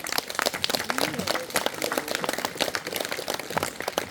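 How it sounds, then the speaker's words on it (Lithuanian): Applause from the audience at a school creative arts celebration, thanking the judging committee; steady, moderately loud clapping with dense overlapping hand claps throughout. "padėkokime komisijai plojimais"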